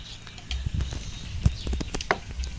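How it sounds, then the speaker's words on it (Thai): Close, crunchy chewing of grilled Thai native beef koi salad dressed with fresh raw blood, a handful of crisp bites and wet smacking clicks over a few seconds, with no one talking. "มาฟังเสียงกรอบเทะ"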